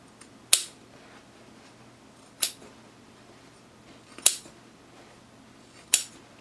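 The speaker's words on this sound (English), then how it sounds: "you can go ahead and chop off the corners of" Scissors cut the corners off a fabric hexagon for a sewn Halloween bucket, making four crisp, close snips spaced roughly two seconds apart in an otherwise quiet room.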